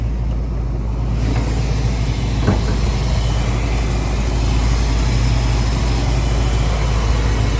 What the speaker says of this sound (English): Really nice running 350 Chevy motor